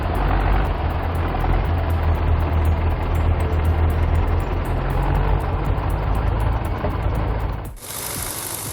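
UMZ tractors drive through slippery mud, a steady low engine rumble with chugging under it, close and continuous, then a brief dip and shift near the end.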